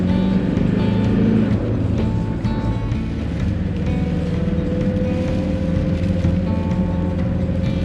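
A van climbing Winnet's Pass from a rolling start, its engine a loud, steady drone with a low rumble and a slowly rising tone, heard from inside the cab with no talking.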